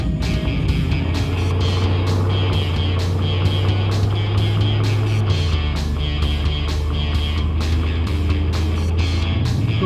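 A Baja Bug on a test drive, running stacked wheel spacers and used tires, gives a loud, steady engine drone and road rumble that drops in pitch about halfway through, with no talking.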